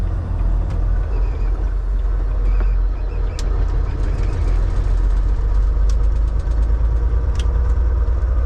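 A vehicle engine idles roughly and misfires, a steady low rumble with an uneven, stuttering beat running nearly the whole time, close and loud, with a few higher clanks and hisses over it during a factory loading job.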